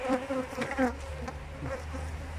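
Honeybees swarm and buzz around an opened hive during an inspection, a steady close drone of many wings with a few louder individual passes near the ear.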